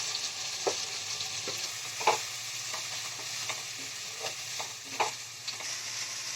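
Chopped garlic and onion with spice paste fry in a pan, a soft sizzle under repeated spoon scrapes and clinks against the metal, irregular and close, with no talking.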